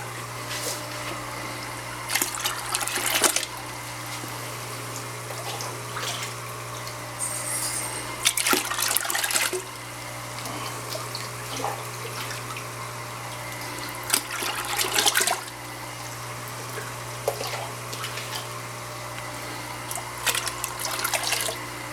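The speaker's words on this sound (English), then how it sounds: "I'll just grab 6 of these and put them into the Rotifer bucket." Salt water is poured from cups into a rotifer culture bucket in several separate splashing pours, with pauses between them over a low steady pump hum.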